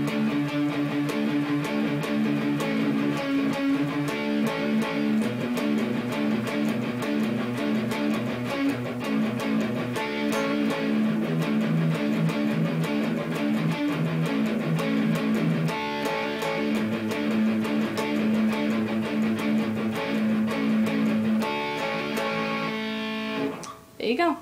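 A strummed and picked guitar part plays continuously with steady rhythm and bright chords, loud and close, a short verse passage ending with a final pluck.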